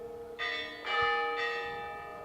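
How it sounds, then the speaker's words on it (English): A church bell at St. Ghazanchetsots church in Shushi rings three clear, resonant strokes in even succession, each hum lingering into the next, with no voices. "When the church bell rang for the first time"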